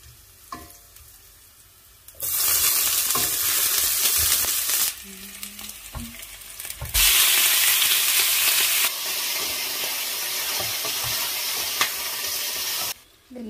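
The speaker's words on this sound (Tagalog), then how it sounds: "ngayon magluluto pala ako ng sabaw na beef" Beef soup cooks in a pan with loud, steady sizzling and frying hiss that swells and cuts off in stretches as the pot is stirred, with faint clinks and quieter gaps between.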